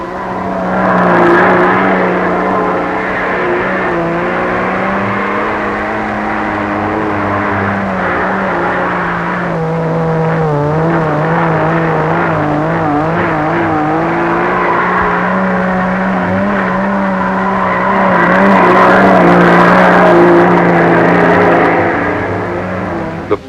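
International trucks driving a Figure 8 course at a proving ground, with outriggers fitted for safety: a steady engine drone that holds throughout and swells near the end, with no talk over it.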